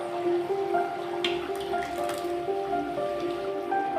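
Ground tomato is added to a Chettinad chicken masala in the pan, giving soft, wet squishing and light spattering close by over a steady background hum.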